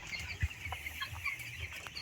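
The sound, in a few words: poultry chickens clucking on a farm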